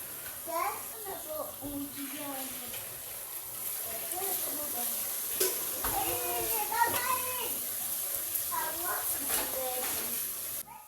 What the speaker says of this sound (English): you need to fry so that the tin tomato can taste sweet to the mouth